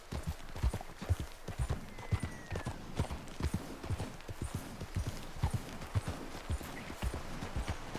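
Horse hooves clip-clop at a steady gallop in the video game Red Dead Redemption 2, a rapid rhythmic pounding that runs close and loud throughout, with faint ambient tones behind.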